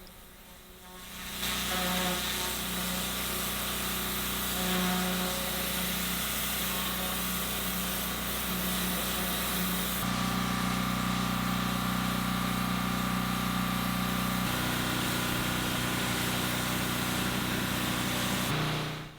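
A pressure washer cleaning marine growth and old bitumen blacking off a narrowboat hull runs continuously with a steady engine drone and hissing spray, shifting pitch slightly partway through, loud and close.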